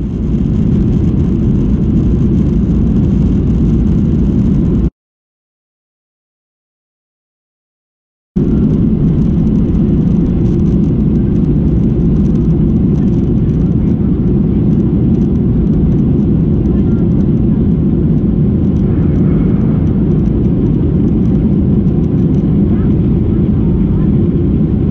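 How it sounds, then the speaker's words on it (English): A Ryanair airliner taxis and takes off from Madrid, a steady loud engine roar and cabin rumble heard from inside throughout, broken by a brief gap of silence. "taxied past the stored British Airways Airbus A380s, and took off for our 4 hours journey to the beautiful capital of Ukraine"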